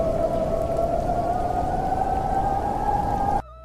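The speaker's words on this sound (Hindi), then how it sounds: "एक रात तेज हवाओं के साथ बारिश और ठंड अपने चरम पर थी।" Dense, steady rain driven by strong wind pours down with a broad rushing roar and a faint droning tone above it, loud and close, then cuts off abruptly at the end.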